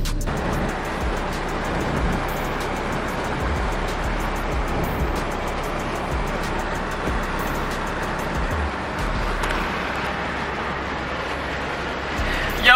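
A Mitsubishi Lancer Evolution 8, back on the road after sitting unused for eight years, drives with a steady roar of engine and road noise heard from inside the car, continuous throughout.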